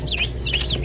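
Chickens and hybrid turkeys in a pen give a pair of bright, close clucking calls over a steady low background hum.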